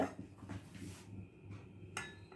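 A lid is set onto a cooking pot during home lunch preparation with potato fry, giving a few faint metallic clinks and knocks close by in a quiet kitchen.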